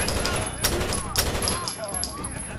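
Rapid gunfire from a Rainbow Six Vegas casino firefight, with bursts of automatic shots and sharp cracks layered over a busy, loud game soundscape.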